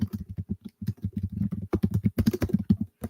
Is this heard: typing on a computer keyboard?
yes